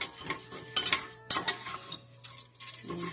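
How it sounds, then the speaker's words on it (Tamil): A spoon scrapes and clinks against a pan while urad dal roasts dry, with sharp metallic knocks around the middle, soft rattling of lentils and a faint sizzle between strokes, close and clear with no talking. "உளுத்தம் பருப்பு செவக்க வறுக்கணும் இப்படி வறுக்கணும் செவக்க"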